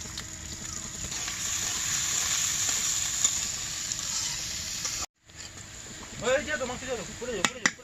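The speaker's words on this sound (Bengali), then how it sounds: "তেলটা গরম হয়ে গেছে পেঁয়াজগুলো আমি বেরেস্তা করে নেব" Onions frying in hot oil in a wok over a clay stove until browned produce a constant close sizzle for several seconds; after a brief cut, a voice speaks over quieter frying.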